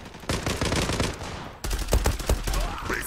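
MPT-76 rifle firing in the online shooter Zula, sustained rapid automatic bursts that are loud and close, split by a brief gap between two volleys.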